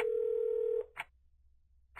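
A phone booth telephone sounds one steady keypad tone that holds for nearly a second, then breaks off, followed by a brief click-like blip and near silence.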